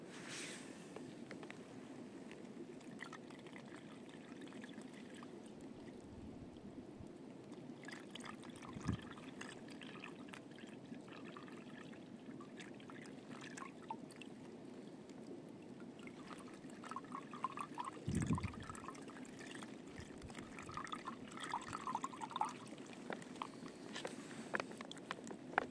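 Water streams and trickles steadily from a Sawyer Squeeze backpacking filter, a soft continuous flow with occasional drips and splashes.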